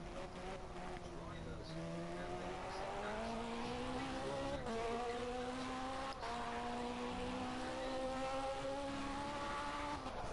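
Race cars in the Project Cars GT3 video game circling a track, a continuous layered engine drone with rising and falling pitch sweeps as cars pass, steady and fairly loud throughout, with faint talk underneath.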